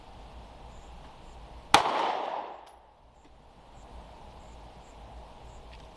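One sharp shot from a Sig Sauer P365 9mm pistol at a shooting range cracks out. Its reverberant tail fades over about a second against quiet background noise, with no talking.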